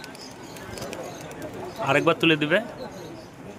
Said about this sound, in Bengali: এটাও নর কবুতর আছে।